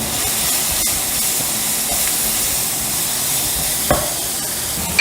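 Finely chopped onions sizzle in hot ghee with asafoetida for spinach khichdi, a steady close hiss and crackle throughout, broken by one brief scrape of stirring, with no talking.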